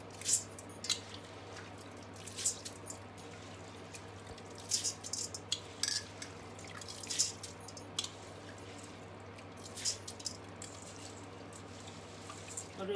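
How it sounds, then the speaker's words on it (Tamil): Soaked rice is drained through a strainer for making sweet ariyatharam, with faint, irregular drips, squishes and small splashes scattered over a quiet steady background hum. "இது இந்த ஊற வச்ச அரிசியை வந்து ஃபில்டர் பண்ண போகிறேன்"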